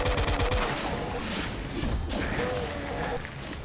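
Rocket fire and explosions in a Doom level form a loud, continuous barrage of booming blasts and crashes throughout.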